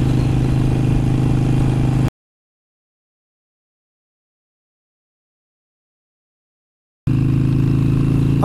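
A motorcycle engine runs steadily at close range with a low, even drone. The sound cuts out to complete silence for about five seconds in the middle, then resumes unchanged.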